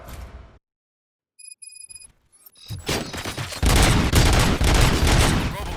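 Gunfire erupts during a prison riot in the video game RoboCop Rogue City: a few scattered shots, then dense, loud bursts of rapid gunfire, preceded by brief electronic beeps.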